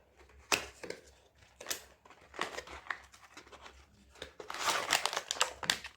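Raspberry Pi 3 Model B box being unboxed, with close, quiet crinkling and crackling of packaging and paper, scattered brushing handling noises, and a denser burst of rustling near the end.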